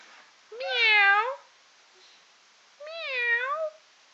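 Two clear, drawn-out meows from a cat, close and fairly loud, separated by a short quiet pause.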